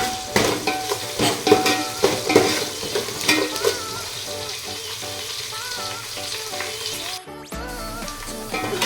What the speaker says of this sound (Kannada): ಸೊ ಈ ಥರ ಈರುಳ್ಳಿ ಚೆನ್ನಾಗಿ ಫ್ರೈ ಮಾಡ್ಕೊಂಡಾದ್ಮೇಲೆ